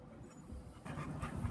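Dogs panting and faintly whimpering close by in a North Texas garage setting, a soft rapid breathing rhythm that grows louder in the second half, with no talking.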